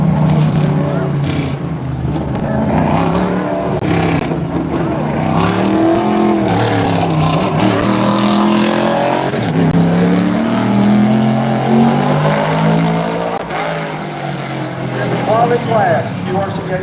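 Race cars lap Bowman Gray Stadium in Winston-Salem during practice and qualifying, a steady loud engine drone rising and fading as cars pass, with crowd and track noise throughout.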